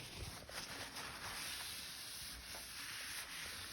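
Paper towel rubbing glue residue off the body of a van, a continuous faint dry scrubbing hiss with small rhythmic strokes and no voices.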